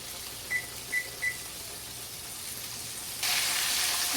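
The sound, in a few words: country fried steak frying in pan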